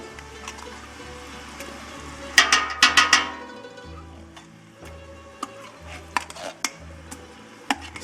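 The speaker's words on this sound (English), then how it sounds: "This one here, you're going to want to spoon it out." Tomato paste being spooned out of its container for a spaghetti sauce, a metal spoon scraping and tapping against the tin in short bursts, with a brief louder clatter near the start.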